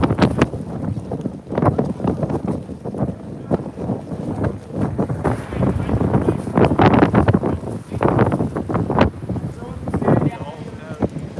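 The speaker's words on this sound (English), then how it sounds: "I am at the end of an alley and the wind is trying to blow me into the street." Strong gusts of wind buffet an outdoor microphone at the end of an alley beside a street, a steady roar with rushing surges, while someone talks over it throughout.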